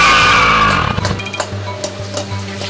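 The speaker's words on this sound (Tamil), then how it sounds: "ஏன் சார் வண்டியை நிறுத்திட்டீங்க?" A car brakes hard with a loud, wavering tire squeal that fades within about a second, leaving the engine idling low and steady with a few faint clicks and knocks.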